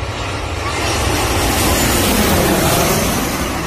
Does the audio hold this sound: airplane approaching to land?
yes